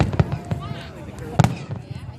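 Fireworks at the Kaboom Town 2014 show, booming from a distance in a few irregular thuds, one stronger burst among them, with people talking nearby over the bangs.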